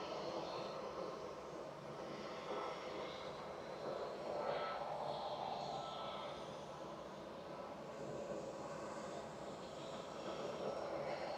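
An EasyJet Airbus A320 Classic bound for Prague, at Manchester Airport, rumbles on the runway with a steady, loud broadband engine roar that swells slightly midway and holds throughout, with no talk.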